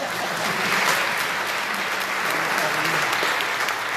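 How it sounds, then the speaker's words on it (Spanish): A congregation at a Sunday Mass in Lent applauds the priest, a thick, even wash of many hands clapping that carries through the whole moment at a steady level. "Un aplauso."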